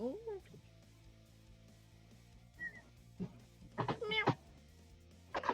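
A person imitates a cat, giving a few short meows between quiet stretches and other voices talking softly.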